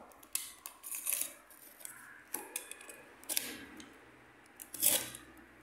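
Scissors cut through material on a Devil Savior DS-03 Transformers figure, with a series of soft, close snips and small crunches at an irregular pace, each quiet and isolated, ending in a slightly louder clip.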